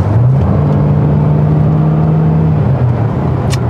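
A KG Actyon engine revs hard while driving, a loud sustained drone that climbs in pitch and holds, heard from inside the car with no talk over it.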